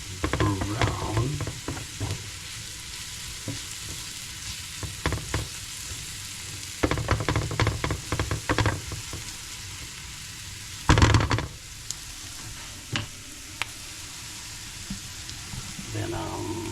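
Onions fry in a pan and are stirred until they brown, producing a steady sizzle with bursts of scraping and clattering from the spoon at intervals, close by.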